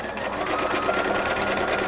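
A sewing machine stitching an apron, a close, steady rapid clatter of the needle running without pause.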